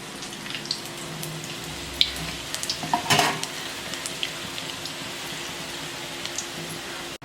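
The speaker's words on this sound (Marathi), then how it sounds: "आता राहिलेले बी असेच तळून घेते" Cabbage balls fry in oil with a soft, even sizzle broken by scattered small pops, heard close but fairly quiet.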